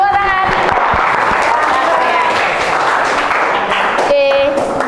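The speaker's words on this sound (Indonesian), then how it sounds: "Tepuk tangan." A classroom of students claps their hands together in a dense, continuous burst of applause mixed with voices and chatter, loud and close throughout.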